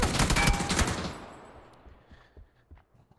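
Automatic gunfire in Battlefield 6 RedSec, a loud burst of rapid shots for about a second that then thins into scattered faint pops and trailing noise.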